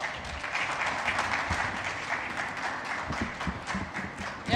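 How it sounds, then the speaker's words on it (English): A conference crowd at Africa Bitcoin Conference 2022 claps for a speaker being called on stage, with dense, even applause from many hands holding steady throughout. "So let's give him a round of applause"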